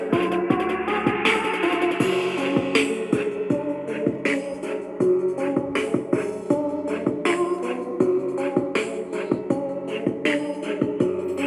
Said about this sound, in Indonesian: ini suara speaker yang sebelah kanan